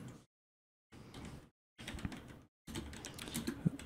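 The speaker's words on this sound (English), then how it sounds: "I forget how loud this keyboard is. This is my old keyboard." Someone types on a loud old computer keyboard, producing short bursts of clattering key clicks separated by brief silent pauses, close to the listener.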